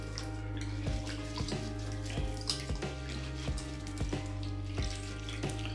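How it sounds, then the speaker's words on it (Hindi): A vegetable is rubbed by hand under a running kitchen tap, a steady splashing water stream with intermittent scrubbing and handling sounds, close and continuous with no talking. "एक बार अगर ऐसे रगड़ के धो लिया"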